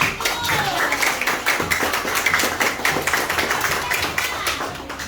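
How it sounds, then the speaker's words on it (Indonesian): Schoolchildren in an elementary school classroom clap for a classmate group, a fairly close, uneven patter of hand claps with rhythmic bursts running throughout, voices mixed in. "kasih tepuk tangan untuk kelompok 1."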